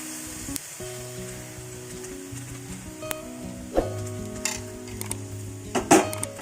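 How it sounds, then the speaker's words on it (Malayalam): Uttapam batter goes into a hot pan with a soft, steady sizzle, broken by a few sharp metallic clinks of utensils against the pan near the end. "ഇനി നമുക്കിത് ചൂടായ പാനിലേക്ക് ഒഴിച്ചു കൊടുക്കാം"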